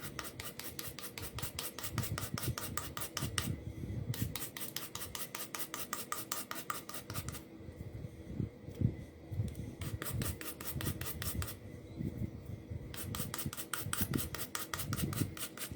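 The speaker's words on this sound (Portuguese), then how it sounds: "lixa de unha com movimento de cima para baixo" Steady rapid rasping of a nail file scraping up and down along the edge of scrapbook paper, close up, in long runs with brief pauses.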